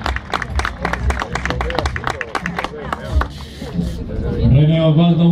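Crowd clapping at a mountain bike podium ceremony at the South American championship in Balcarce, a dense patter of many hands that fades into a loudspeaker voice and a rising sustained tone.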